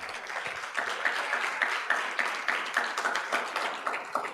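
Church congregation applauding during a worship service, a dense wash of many hands clapping with a loosely steady rhythm, sustained and fairly loud, no voices rising above it.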